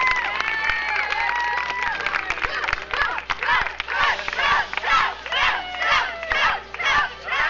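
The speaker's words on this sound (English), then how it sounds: "Let's give them one more round of applause." Audience at a school board business meeting claps and cheers in rhythmic bursts, loud and close, with shouts mixed into the applause.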